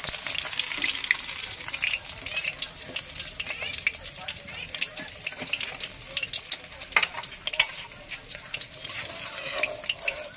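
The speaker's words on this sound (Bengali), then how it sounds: "মাছ ভাজা হয়ে গিয়েছে। এবার আমরা মাছ ভাজাগুলো তুলে নিচ্ছি এক এক করে।" Katla fish frying in a pan of oil, a dense continuous sizzle and crackle close by, with occasional scrapes and knocks of a utensil lifting the pieces.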